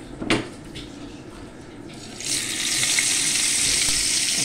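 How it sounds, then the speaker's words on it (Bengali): Fish rubbed with salt and turmeric is dropped into hot oil, starting with a brief clatter of utensils and then a loud, steady close-up frying sizzle for the last couple of seconds, with no voices. "আমি ভেজে নেব।"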